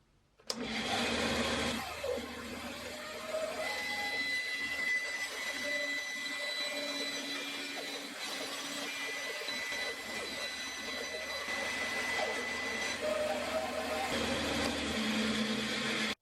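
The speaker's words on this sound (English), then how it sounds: "take this to the garage, cut it out on the bandsaw" A bandsaw in a garage workshop cuts a wooden shelf, its motor starting with a loud jump and then whining steadily at close range, with the pitch shifting slightly as the blade works through the wood.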